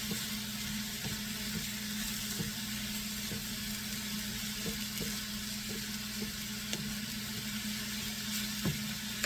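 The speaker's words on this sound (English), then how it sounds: "This is called sauteing, which is pre-cooking your vegetables." Vegetables sautéing in a pan for a veal, pecan and bourbon meatloaf, a steady close sizzle running throughout with scattered small pops and crackles and no talk.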